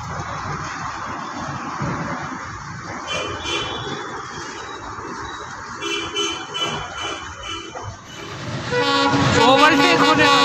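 The Saryu Yamuna Express rumbles past close by while overtaking an intercity train, a steady loud roar of wagons with clattering wheels that swells toward the end, a horn-like tone briefly sounding.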